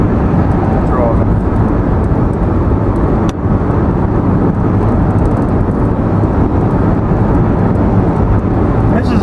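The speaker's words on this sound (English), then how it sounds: "I'm driving." A car driving along a rural road past long stone fencing, its steady engine drone and road rumble loud and continuous throughout, with one brief knock partway through.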